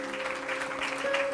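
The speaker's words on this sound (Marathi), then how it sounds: "जरा सिस्टरसाठी टाळ्या वाजवा." A congregation at a church gathering claps for a sister, a steady wash of applause lasting throughout, with a held tone running underneath.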